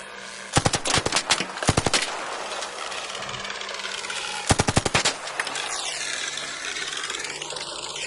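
Rapid automatic gunfire from the video game ARC Raiders: two long close bursts of quick shots, then a short burst, over a steady background hum.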